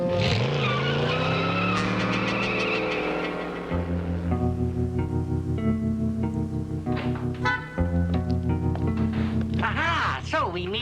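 A car in a 1960s sitcom scene drives off with loud, wailing tire squeals that bend and slide in pitch. A harmonic screech is followed by a rising engine roar and more squealing, all close and dominant.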